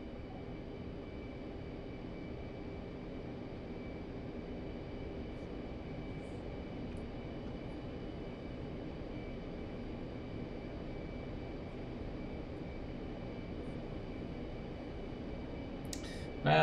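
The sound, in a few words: F-15 jet engine taking off in DCS World video game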